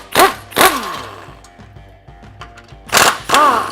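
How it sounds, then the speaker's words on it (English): Sway bar mount bolts come off a Toyota Tacoma under a power tool, with loud bursts of whirring rattle at the start and end and quieter metallic ticks between. "We're gonna go ahead and unbolt our sway bar mounts here"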